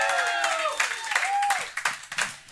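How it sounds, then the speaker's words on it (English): An audience at a comedy show claps in a scattered, fairly close burst that tapers into uneven individual claps while a host's voice speaks over the start. "Y'all start clapping for Janon"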